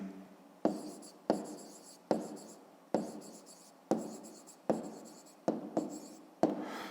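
Pen strokes on paper while writing down a math exercise, a series of about nine sharp scratchy strokes at roughly regular intervals, each fading quickly, close and quiet, with no talk.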